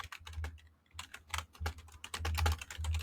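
Rapid, steady typing on a computer keyboard, a dense run of close, crisp keystrokes with a short pause near the start, heard alone with no voices.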